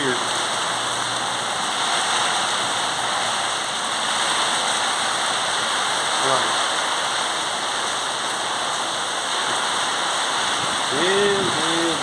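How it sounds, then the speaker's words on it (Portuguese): Rain pours during an intense windstorm in Tramandaí, Rio Grande do Sul, as a loud, steady hiss and wash with no break. A voice surfaces briefly under it near the end. "chuva! Olha aí."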